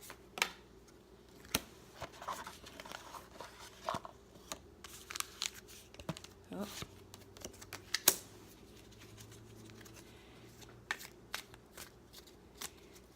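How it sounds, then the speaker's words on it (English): A tarot deck is pulled out of its box, giving quiet clicks, taps and papery rustles scattered irregularly across a hushed room, with no talking. "Let me get the cards out of the box,"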